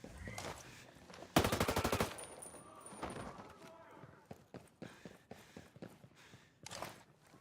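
Rapid automatic weapon fire from Ghost Recon Breakpoint, with one loud sustained burst of close shots and scattered single cracks around it, mixed with game effects and someone talking over the action.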